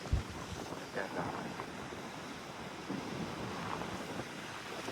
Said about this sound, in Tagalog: Nakasahan ng alon.